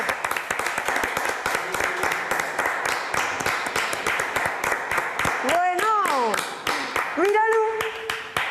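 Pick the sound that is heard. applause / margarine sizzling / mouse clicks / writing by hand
applause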